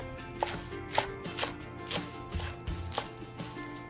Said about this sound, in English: thinly slice crosswise into ribbons